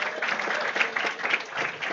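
Steady, dense applause from a roomful of students wrapping up a semester lecture, continuous clapping with no pauses across the whole stretch.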